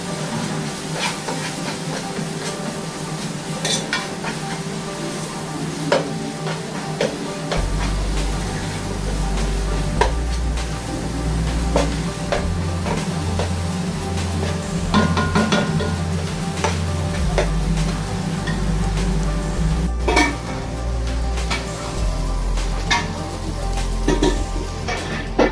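Masala spices sizzling and frying in a pan while being stirred, a continuous hiss with repeated scraping and clinking strokes of a utensil against the pan, close and steady.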